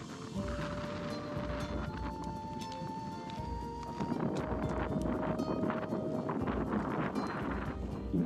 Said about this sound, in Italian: Vento forte che spinge.